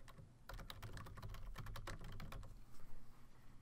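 Rapid, irregular clatter of keys on a computer keyboard as a team name is typed, close and fairly quiet, with a soft low hum underneath and no voices.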